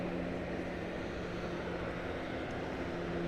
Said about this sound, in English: We do know it's an Airbus A220